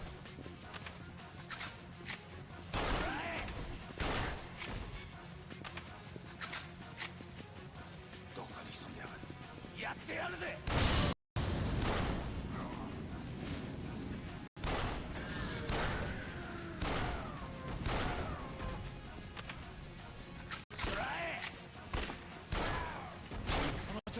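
Gunfire from Yakuza Dead Souls, repeated sharp shots and bursts scattered through a busy game soundscape, with a voice talking over it.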